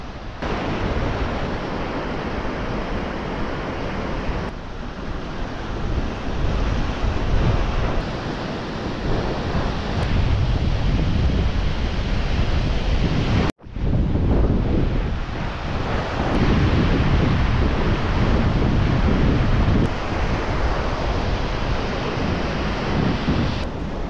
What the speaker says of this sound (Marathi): या ठिकाणी लहान मोठ्या आकारांची दगडं सर्वत्र पसरलेली आहेत आणि समुद्राचं पाणी येऊन त्यांच्यावर आदळतंय